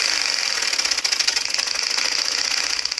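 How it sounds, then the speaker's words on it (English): A compressed-air engine runs with a fast, even mechanical chatter over a continuous hiss, steady and fairly loud, with no talk. "This engine doesn't run off a combustible fluid or gas, but instead runs off the air that we breathe"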